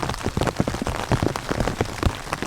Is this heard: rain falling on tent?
yes